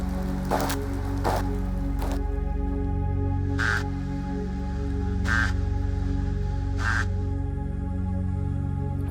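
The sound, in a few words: singing fish recorded underwater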